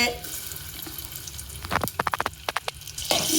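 Onions dropped into hot oil in a home kitchen for chicken sukka, a steady frying hiss with a burst of sharp crackles and pops midway, close by, with no talking.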